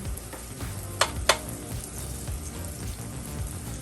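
Butter sizzling in a hot pan, a steady close crackle and hiss with two sharp pops or taps near the start, otherwise even and unbroken, no speech.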